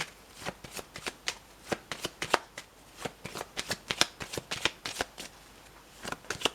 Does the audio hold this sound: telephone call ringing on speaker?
no